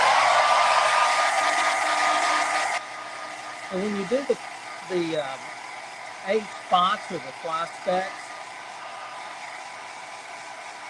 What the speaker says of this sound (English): pardon for the noise, hair dryer.